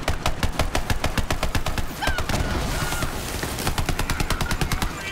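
Weapon gunfire in Borderlands 3: a loud, fast automatic stream of evenly spaced shots, briefly thinning in the middle with whooshing effects, then resuming its rapid rhythm.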